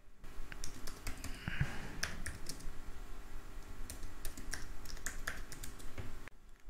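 Computer keyboard typing while renaming a video editing project, a brisk run of light, close key clicks in irregular bursts with a few louder taps, heard alone without speech.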